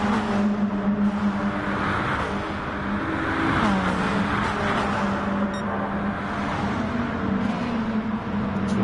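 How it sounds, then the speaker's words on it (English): Several racing cars run together through the Ascari chicane at Monza in Gran Turismo Sport, a steady loud engine drone with pitch shifting as they brake and accelerate through the bends. "See this gaggle of cars coming through Ascari for the 2nd time."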